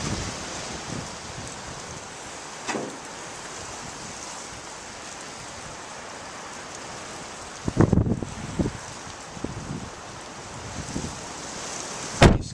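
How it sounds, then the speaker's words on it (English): Rain falls at a cold, windy bus stop as a steady hiss throughout, with occasional gusts and sharper knocks and rustles breaking through near the shelter. "The bad news is that it's sort of raining"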